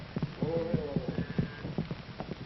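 Hooves of cow ponies used for rounding up cattle clip-clop in an uneven rhythm beneath narration, recorded with muffled, low-fidelity tone.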